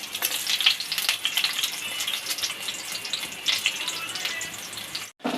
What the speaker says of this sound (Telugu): నూనె కాగాక ఉల్లిపాయలు పచ్చిమిరపకాయలు వేసుకోవాలి.